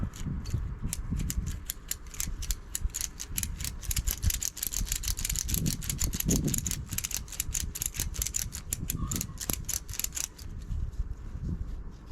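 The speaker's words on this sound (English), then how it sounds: "this is going to be the ratcheting end" A ratchet strap is cranked repeatedly, a close, fast run of sharp clicking ratchet strokes over a low background rumble.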